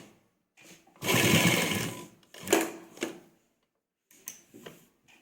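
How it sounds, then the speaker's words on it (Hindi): Sewing machine stitching a dupatta with underground piping, a dense burst of about a second followed by shorter intermittent runs and pauses, fairly quiet and close with no talking. "इस पर सिलाई लगाना स्टार्ट करेंगे। और सिलाई हम सीधी साइड से लगाएंगे।"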